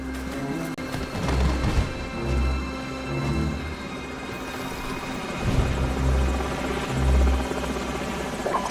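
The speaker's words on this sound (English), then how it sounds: "Enemy helicopters." Enemy helicopters in the Call of Duty 4: Modern Warfare mission Ultimatum, a steady low rotor thump that swells and pulses beneath a dense layer of rain-like noise and battle ambience, with no talking.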